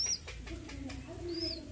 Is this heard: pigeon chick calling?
yes